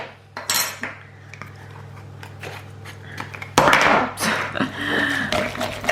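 Banana batter with a little cinnamon being mixed in a bowl: irregular clinks and scrapes of a utensil against the bowl, close and fairly loud, growing busier and stronger in the second half, with no talking.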